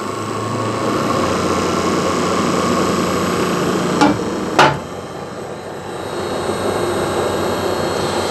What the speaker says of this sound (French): si j'augmente ici mon variateur, on voit que ça se met à tourner